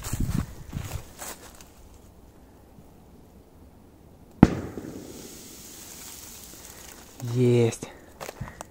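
A large firecracker explodes in sand with one sharp close bang followed by a brief rumbling tail, after a quiet stretch with faint outdoor noise; someone speaks briefly near the end.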